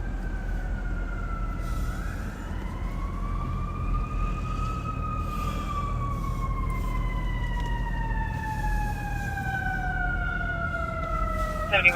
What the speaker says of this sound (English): whenever I hear a fire truck